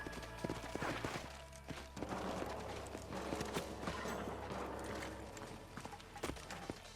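Horses in the Red Dead Redemption 2 video game trot along with rhythmic, close clip-clopping hooves, and a few sharp gunshot-like cracks are mixed in.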